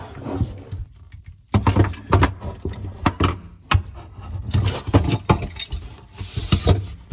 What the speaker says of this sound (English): Just gonna screw that 1/2 inch brass nipple onto there. We'll tighten that up with 2 wrenches.